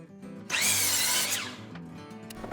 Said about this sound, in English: The first thing I needed to do was to drill a hole where the bearing guide is going to sit.